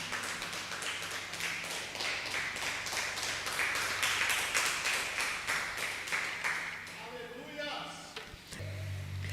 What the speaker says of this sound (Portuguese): dá uma salva de palmas aí para você acordar em nome de Jesus